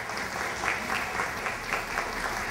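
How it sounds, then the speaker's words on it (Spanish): Steady audience applause at a youth council recognition ceremony in a district hall, a dense, even wash of claps heard from a distance that holds at one level throughout. "Un aplauso para ellas, por favor."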